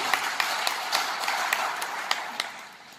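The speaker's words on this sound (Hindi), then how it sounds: "मैं चाहूंगा एक बार थोड़ी सी तालियां और बजा दीजिए" Scattered, fairly faint clapping from a seminar audience in a hall in Sri Ganganagar, Rajasthan, a thin wash of hands with a few sharper claps standing out over several seconds.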